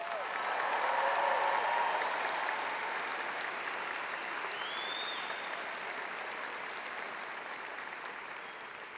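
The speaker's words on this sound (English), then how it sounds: "Please join me in giving Fran another round of applause." A large commencement audience at a university graduation ceremony applauds steadily, with dense, sustained clapping from a big crowd that fades gradually toward the end.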